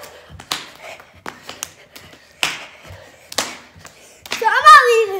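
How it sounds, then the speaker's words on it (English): Hand claps during a kids-and-parents home workout: sharp, bright claps scattered at an uneven pace over a few seconds, mixed with children's and adults' voices, ending in louder overlapping chatter. "Clap your hands."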